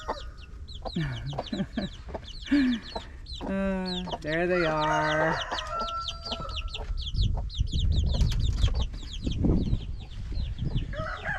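A broody hen clucks steadily among her chicks, with high peeping from the chicks throughout and a rooster-like call partway through; a person speaks briefly over the farmyard sounds.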